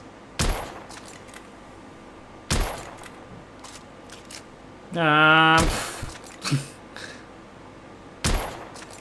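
Gunshots sound at intervals in the video game The Order: 1886. There are about five sharp, loud single shots spaced apart, with a short sustained mechanical whine in the middle.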